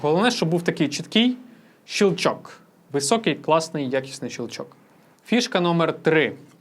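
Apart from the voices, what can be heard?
No distinct noise like a dog, phone or traffic.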